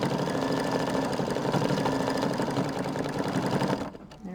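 An embroidery machine stitches with red thread, its needle running in a fast, even mechanical chatter that stays loud and close, then cuts off just before the end.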